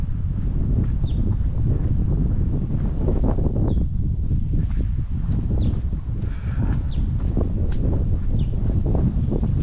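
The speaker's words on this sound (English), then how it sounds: "Wind's picking up." Strong outdoor wind gusts during a walk, roaring continuously and loudly against the microphone, with faint rustling and occasional small knocks underneath.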